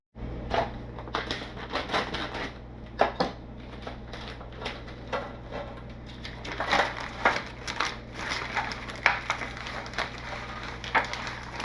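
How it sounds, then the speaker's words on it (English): A sous vide bag holding a chuck roast being cut open, giving close, irregular crinkling and crunching plastic noises with soft thuds, steady throughout with no voices. "Now we got to cut it out of the bag and see how she looks."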